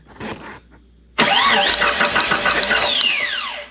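An engine with a loose test spark plug fitted cranks loudly and steadily after a brief murmur of voices, a close, continuous mechanical churn with whining overtones.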